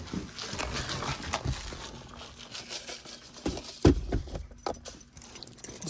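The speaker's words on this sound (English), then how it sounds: "All right, got the keys." Car keys jangle in a hand beside a 2007 Toyota Yaris, a few light metallic clinks and rattles scattered over several seconds, close to the mic with quiet background noise.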